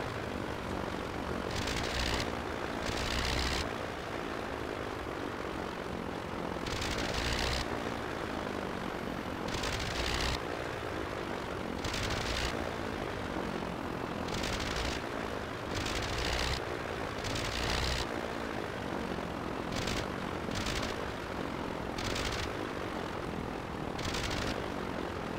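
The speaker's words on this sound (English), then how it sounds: "We are blipping the engine, getting it prepared for a landing, maintaining about the same speed with the blip switch." An N17 biplane's rotary engine in the game Rise of Flight, blipped on and off during a landing approach, giving a steady propeller drone cut by repeated short bursts of louder roar at irregular intervals.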